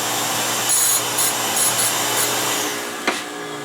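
Swing arm skate sharpening machine grinding a figure skate blade, with a shop vac hooked up drawing air in a continuous rushing hum, short rasping bursts of stone contact and a sharp knock near the end.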